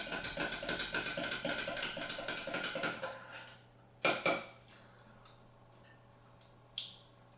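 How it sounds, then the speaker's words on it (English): A spoon stirs a baking mixture in a bowl, making a quick run of rhythmic scraping clinks for about three seconds, then a few separate louder knocks against the bowl, close up and with no talking. "So what I do is I give it another stir."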